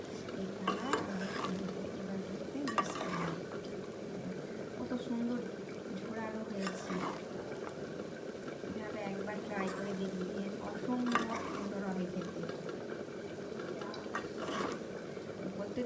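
A spoon scraping and stirring paneer fried rice in a pan, with intermittent clinks and shuffles under a person talking throughout.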